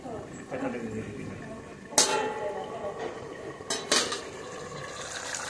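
A lid lifted off a covered cooking pot of potol and prawn curry: two sharp metallic clanks a couple of seconds apart over a soft background of kitchen noise.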